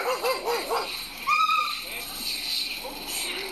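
A German Shepherd gives a few high yelps and whimpers in the middle, nearby, with people talking over and around it.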